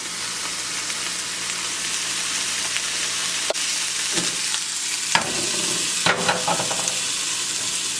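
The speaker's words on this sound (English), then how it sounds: "So I'm just going to move that back to finish frying up." Steady sizzling of food frying in a pan, with a few sharp clinks and scrapes of a utensil stirring near the end.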